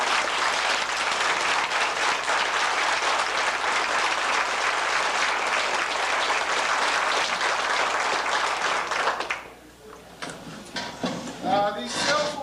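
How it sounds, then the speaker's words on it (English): Sustained applause from a crowd at a 1990 retirement party fills the room for about nine seconds as a thick, even roar of clapping, then drops away abruptly, leaving scattered clatter and murmuring voices. "I think that deserves another round of applause."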